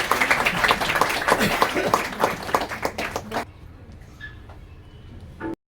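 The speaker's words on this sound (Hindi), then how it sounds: "जोरदार ताली से स्वागत करेंगे।" An audience at a Mahashivratri celebration at a Brahma Kumaris centre in Bihar claps steadily and loudly to welcome performers onto the stage, the applause cutting off abruptly and leaving a quiet room.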